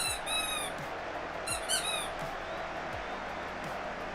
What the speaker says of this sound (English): here's a squeaky raspberry